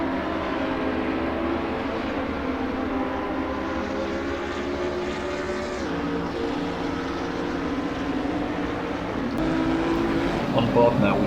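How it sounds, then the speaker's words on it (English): GT3 race cars scream through the Maggots and Becketts complex at Silverstone in Assetto Corsa, a steady loud engine roar with shifting pitch, overlaid by commentary. "It really is a beautiful sight watching these GT3 cars go through this complex."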